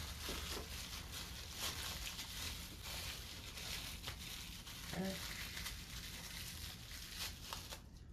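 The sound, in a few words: unwrapping a new watch winder motor from its packaging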